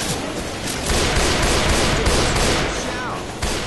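Rapid gunfire from Left 4 Dead 2 on the Hard Rain campaign at Expert difficulty, a dense crackle of shots that runs steadily across the clip, with a voice talking over it.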